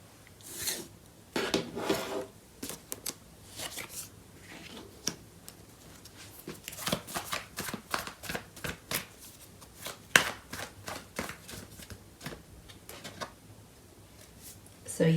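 Tarot cards being shuffled by hand in bursts of dry riffling and rubbing, with quick flicks and taps between, close and moderately loud, no talking over it.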